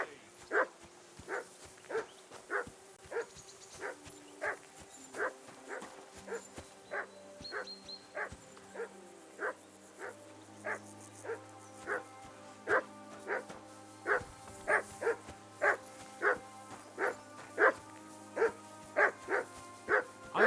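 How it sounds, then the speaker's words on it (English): A dog barking in the video game Kingdom Come Deliverance, a long run of evenly spaced barks repeating about once per second at moderate distance, over a low ambient hum. "I assume you can hear that damn dog of yours barking."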